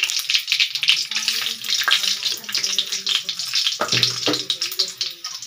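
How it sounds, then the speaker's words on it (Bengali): Bay leaf and panch phoron hit hot oil in a kadai, producing an uneven crackling sizzle with bursts and pops, close and moderately loud, with stirring noises mixed in. "তেলটা একটু গরম হয়ে আসছে, তার মধ্যে দিয়ে দেব তেজপাতা আর দেব পাঁচফোড়ন।"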